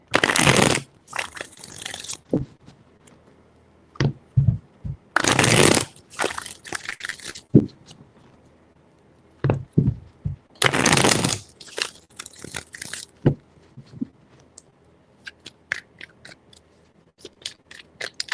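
A deck of tarot cards is shuffled up close in three separate bursts of crisp, riffling card noise. Short quiet gaps with scattered light taps and rustles fall between the bursts, and no one speaks.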